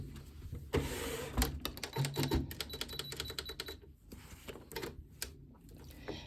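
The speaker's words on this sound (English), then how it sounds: "we are going to sew on 6mm braided elastic with a wide zigzag stitch" A sewing machine stitches 6mm braided elastic with a wide zigzag stitch, producing quick close mechanical clatter in short bursts with brief pauses, fairly quiet and without speech.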